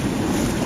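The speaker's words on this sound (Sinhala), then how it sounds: "මේ වතුර පාර සැර" Strong water current rushing through a stream in Sri Lanka, a loud, dense and continuous wash of noise with wind buffeting the microphone, heard alone for under a second.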